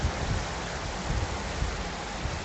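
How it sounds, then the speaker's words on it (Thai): Rainfall in the video game Skyrim makes a steady, even hiss of falling water that fills the scene throughout, with no speech over it. "ไอ้ที่นี่ยินเสียงพวกซ่าๆอย่างนี้คือไม่ไม่ได้เสียนะครับ แต่เป็นฝนตกครับผม"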